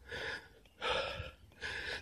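Heavy, close breathing after a tough workout, with three loud gasping inhales and exhales in a steady rhythm and no talking.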